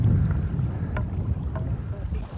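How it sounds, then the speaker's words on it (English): Steady low rumble of wind buffeting the microphone on open water beside a boat, loud and continuous throughout with faint knocks and creaks on top and no talk. "The wind is getting lively."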